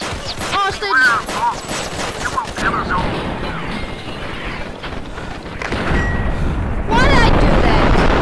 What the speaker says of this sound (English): I just shot the freaking hostage